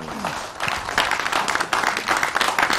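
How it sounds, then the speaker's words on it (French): A hall audience of students and family heads breaks into clapping, starting ragged and building into uneven applause with some distinct claps, while a voice speaks over the start. "on peut applaudir."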